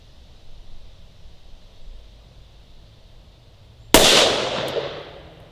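A single sharp, loud report from a Smith & Wesson 66 Combat Magnum revolver fired single action with newer production ammunition, a sudden blast followed by a short decaying ring after a quiet lead-in.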